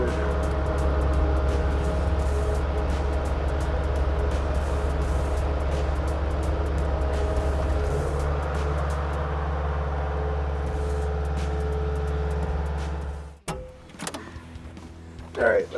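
A skid steer fitted with snow tires runs at full throttle, giving a steady, loud engine drone that holds for several seconds before cutting off abruptly, leaving a few faint knocks.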